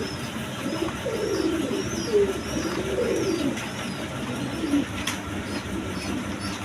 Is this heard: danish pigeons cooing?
yes